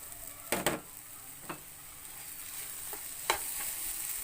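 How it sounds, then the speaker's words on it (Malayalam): Banana pieces being sautéed in a pan with flattened rice, sugar and grated coconut, giving a soft steady sizzle with a few sharp spoon scrapes and knocks against the pan. "കൂടെ ഇട്ട് നന്നായിട്ടൊന്ന് വഴറ്റുക"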